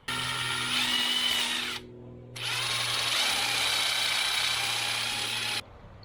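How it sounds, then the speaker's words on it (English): A power drill bores a hole through a kayak hull to run wire, whining loudly and steadily in two long bursts separated by a brief pause, with no talking. "So we're going to drill a hole here to run wire."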